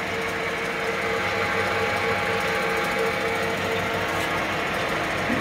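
A 1960 Leblond Regal 13" x 30 gear head lathe running forward: a steady, close mechanical whir with a constant gear hum that holds evenly throughout, with no talking.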